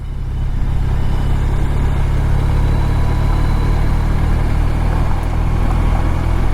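A BMW R1250 RT motorcycle engine runs steadily in second gear through town, a constant close low rumble with wind noise and no break.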